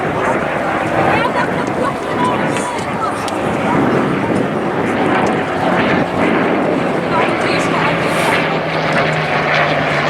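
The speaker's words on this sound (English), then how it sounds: "the aircraft pitches up from the left, return from the right, the Dakota and the Hurricane" A Dakota and a Hurricane propeller aircraft fly together at an airshow, a loud, continuous droning engine roar filling the scene with a faint higher whine over the top as they pass overhead.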